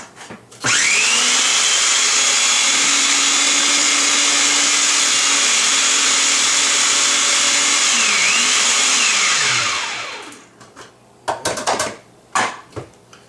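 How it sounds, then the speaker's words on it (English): A food processor grinds fresh bread into breadcrumbs for baked macaroni and cheese, a loud, steady high whirring drone for about nine seconds that winds down and stops, followed by a few clattering knocks. "I'm going to put it in my food processor"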